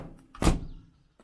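A 1950s Standard 10 saloon car door shuts with a single solid, close thunk that fades quickly, followed by a faint click, with no voices.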